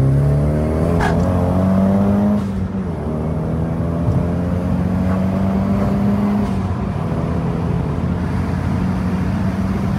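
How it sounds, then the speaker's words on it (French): A Nissan S15 with an SR20 turbo engine revs steadily and loudly up close, its rising and falling engine note running continuously without any voices. "Tu mets une admission, tu mets une dump valve, tu vas entendre ton turbo surger, ton air qui rentre dans le turbo, ta dump valve qui se décharge."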